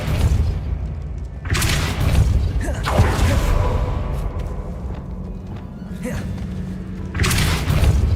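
Depulso force spell impacts in Hogwarts Legacy, several loud booming thuds and whooshing blasts at irregular intervals over rumbling game sounds.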